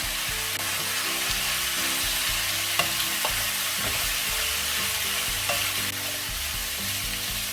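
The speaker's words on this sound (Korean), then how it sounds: "양파와 새송이 버섯도 넣어서 노릇노릇하게 볶아줍니다." Onion and king oyster mushrooms stir-fry in a pan for spicy pork stir-fry, giving a steady, close sizzle with occasional stirring scrapes under background music.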